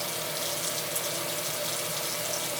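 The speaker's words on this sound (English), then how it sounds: "We're going to go ahead and run some hot water." Hot water runs steadily from a tap into a sink, a continuous close, even rushing splash with no breaks.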